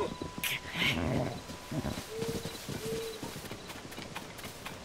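A horse's hooves clip-clop in Zelda: Tears of the Kingdom, a quick series of soft thuds beneath brief game chimes, moderately close and fairly faint.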